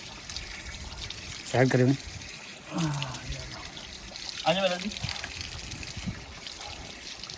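Tap water runs steadily while hands are washed, a continuous splashing trickle under talk from several people nearby.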